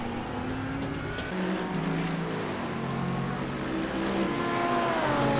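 Race car engines roar continuously at Bathurst in the sim game iRacing, a steady close engine drone with shifting harmonic pitch as cars chase and pass through traffic, with no voices.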